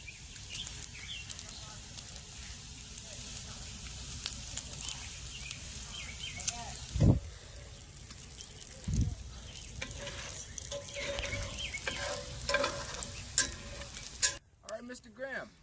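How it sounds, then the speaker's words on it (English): Salted pork bacon fries in a pan, giving a continuous close crackling sizzle that runs beneath occasional talking, with a couple of brief thumps midway and a sudden drop near the end. "we're going to let our bacon cook and sizzle like bacon does"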